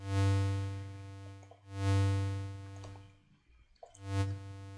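A sustained synthesizer tone with a slow attack envelope swells in gradually, repeating three times with short gaps, each note rising softly before holding steady.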